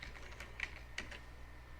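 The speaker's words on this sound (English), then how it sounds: "I'm typing using one hand" A few light taps on a computer keyboard, typed with one hand, come as sparse, quiet clicks over a steady low hum.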